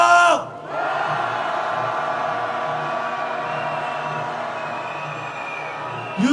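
Large street protest crowd roaring and chanting together for the impeachment of President Yoon Suk Yeol at a march in Yeouido, a loud sustained mass of voices with a drop near the start and a fresh swell at the end.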